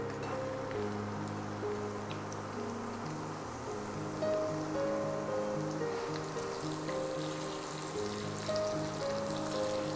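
Chopped garlic, ginger, green chilli and curry leaves sizzle in hot oil for a lemon and dates pickle, a steady crackling fry with no talk.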